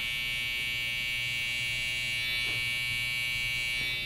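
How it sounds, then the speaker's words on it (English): An electric hair trimmer hums with a steady, high, even buzz during a clipper haircut, close and continuous, alone with no voices. "I'm going to go back to my trimmer."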